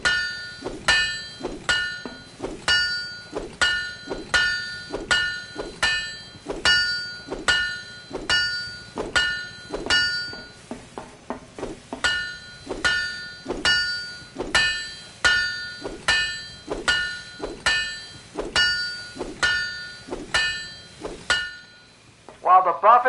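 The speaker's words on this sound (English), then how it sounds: "You have to repeatedly hit the part you're buffing before it takes effect." Repeated hammer strikes on a ship part to buff it in the Guns of Icarus airship game, a steady run of sharp metallic clanks about once per second, with a short pause midway, loud and close.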